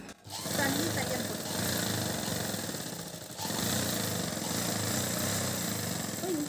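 A sewing machine stitching a churidar top, running as a steady close mechanical whir and rapid needle chatter with a brief pause midway, with no talking.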